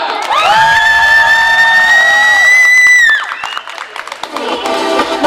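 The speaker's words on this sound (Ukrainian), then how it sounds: "Я хочу ще раз почути ваші оплески" A karaoke crowd cheers and applauds for singer Tanya, a loud burst of voices, whoops and clapping that follows a sustained sung or shouted tone and carries on with scattered shouts.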